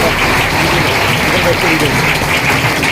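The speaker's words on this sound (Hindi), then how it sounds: "तो इस नॉमिनी फैसिलिटी के लिए एक जोरदार ताली बजाया आप लोग" Dense, steady applause from an audience at an MI Lifestyle Marketing business meeting, a continuous wash of many hands clapping through the whole stretch, loud and close, with voices mixed in.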